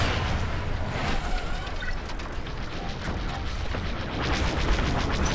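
Starfighter weapons in Star Wars Squadrons fire over a dense rumble of engine noise, with repeated booming blasts and crackling bursts blending into a continuous, loud roar.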